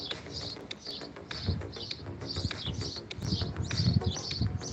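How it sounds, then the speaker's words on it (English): A flock of birds chirps outdoors, with repeated bright, busy calls sounding close and steady, alongside low rustling and handling noise. "I only see one bird. I hear a whole bunch."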